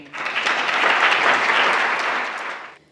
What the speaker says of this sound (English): if we could have a round of applause for Laura Smith, who is the winner of the Re